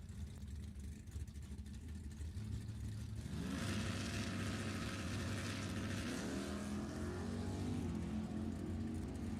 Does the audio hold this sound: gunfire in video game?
no